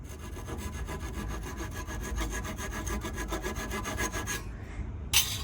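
A hand saw cuts through reclaimed 1930s lumber in fast, even back-and-forth strokes, loud and close, until the board is sawn through and a final thud follows.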